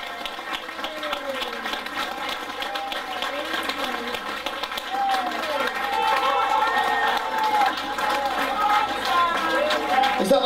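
A crowd at an acoustic music festival in Bedale, England, claps in a dense, steady wash of applause with some cheering, growing fuller midway through while voices carry faintly over the top.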